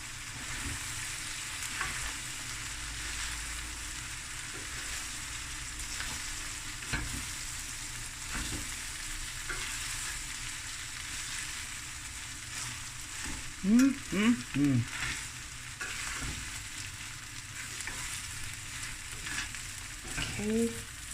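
Seafood rice with mussels stir-frying in a pan on high heat, a constant close sizzle with occasional stirring strokes and a few squeaky scrapes near the end.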